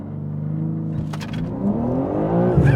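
BMW G80 M3 with an OTS stage 1 tune accelerating, a steady droning engine note that climbs in pitch as it revs, heard close and continuous with no talk.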